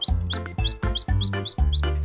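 A chick calls in four evenly spaced bursts, each a bright, high chirping note over a fuller clucking tone, close and clear with no talking.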